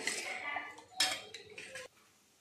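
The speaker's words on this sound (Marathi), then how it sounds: "आपण याच्यात चमच्याने मिक्स करून घेऊया" A spoon stirring thick cream into basundi in a pot, a few metallic scrapes and clinks over about two seconds, close and moderately quiet, ending abruptly.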